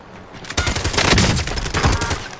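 Loud, dense bursts of automatic gunfire rattle through a first-person shooter video game, a sudden barrage that starts just after a short lull and keeps hammering in rapid overlapping shots.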